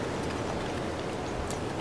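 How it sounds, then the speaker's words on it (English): Steady rainfall in The Legend of Zelda: Breath of the Wild, a dense, even hiss of drops with faint ticks, filling the brief stretch without a break. "the fact that it's raining means it's going to be very difficult for me to scale walls"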